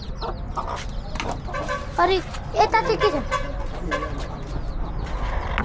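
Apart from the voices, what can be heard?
chickens clucking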